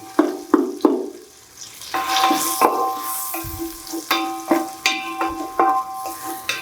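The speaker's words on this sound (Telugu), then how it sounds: "ఈ రెండింటిని కూడా చక్కగా వేసి ఫ్రై చేస్తాం" Turmeric and rock salt frying in a pan, heard as loud, repeated scraping stirs in a rhythmic pattern over a soft background sizzle.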